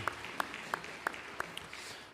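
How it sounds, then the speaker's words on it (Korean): Applause from a church congregation during a Sunday morning service, faint and distant, heard as a short run of evenly spaced claps rather than a dense ovation. "앞에 영광의 박수 올려드리겠습니다."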